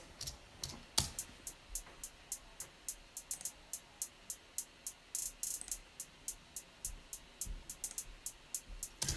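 808 hi-hats switch back and forth between uncompressed and compressed versions, a continuous stream of short, bright ticks in a steady groove with a few heavier accented hits, no voices over them.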